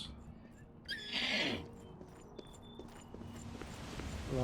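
A horse in the Oblivion video game whinnies loudly once after being called, followed by a few soft, evenly spaced clip-clop hoofsteps over a low game background.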